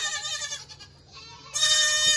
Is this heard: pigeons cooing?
no